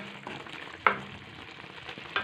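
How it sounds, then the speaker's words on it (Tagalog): Soft, steady sizzling and bubbling from a pot of biryani, with a couple of brief clinks, quiet and close. "kumukulo-kulo na ang ating biryani"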